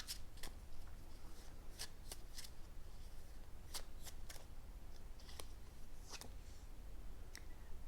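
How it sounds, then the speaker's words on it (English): Tarot cards being shuffled in a quiet room, a steady run of soft riffling flicks and crisp snaps repeating throughout, close and fairly faint with no voices. "Shuffle and get some more."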